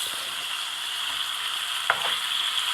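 Chicken sears in oil and ghee for a potato-and-chicken tray dish, a loud close hiss of frying with one sharp sputter of a stir or turn near the end, no talking.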